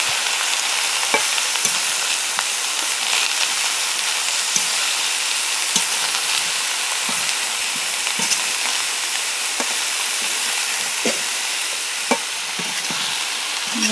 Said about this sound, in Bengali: এবার একটু নাড়িয়ে নেব যাতে মশলাগুলো পুরো সবজিতে মিশে যায়।